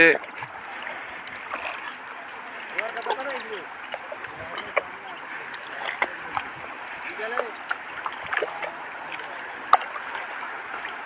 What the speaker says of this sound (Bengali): ঢেউগুলো ছোট ছোট সমুদ্রের গর্জন শুনতে পাচ্ছি